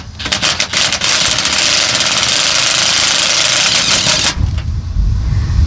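An impact drill lowers the spare tire cable on an RV, a loud rapid rattling buzz that runs for about four seconds, then stops with lower background rumble remaining.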